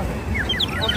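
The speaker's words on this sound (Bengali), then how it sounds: "এই পাখিটার আওয়াজ কোথা থেকে আসে, বাট দেখলাম এটা বাঁশি" A bird-call whistle toy at a Baisakhi fair gives quick, chirping warbles, several short rising tweets in a row, over busy crowd noise.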